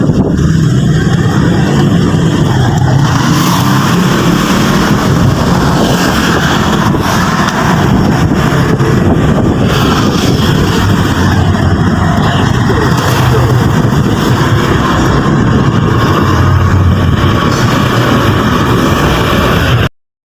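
A vehicle travels along a rural road through farmland in the Philippines. Close, constant engine drone and wind buffeting fill the whole stretch at a steady, loud level before cutting off abruptly at the end.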